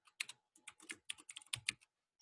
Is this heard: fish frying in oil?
no